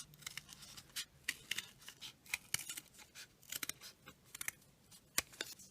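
Scissors snipping through white felt while cutting a small flower shape, a quiet close series of crisp, irregular cuts with brief gaps and no voices.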